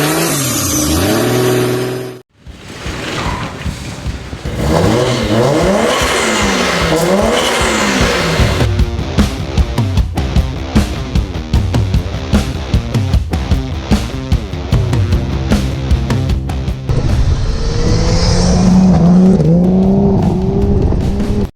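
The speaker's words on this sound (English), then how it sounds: "Turbo spins, makes cool noises." A Toyota 2JZ engine with a custom single-turbo manifold and wastegate, fitted in a Holden Commodore, runs loud and close with repeated revving and rising turbo whine. A brief cut near the start interrupts it.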